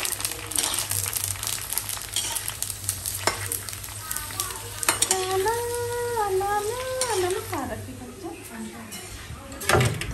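Cumin seeds crackle and sizzle in hot oil in a pan at close range, a steady frying hiss with clinks of a utensil stirring, while someone talks and a brief tonal whine rises and falls midway.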